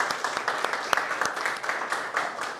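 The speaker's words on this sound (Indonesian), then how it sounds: "tepuk tangan buat kesiapan belajar kita untuk hari ini" Students applaud in a classroom before a mathematics lesson, a short, lively patter of clapping with distinct sharp claps standing out, fairly close and steady for a few seconds.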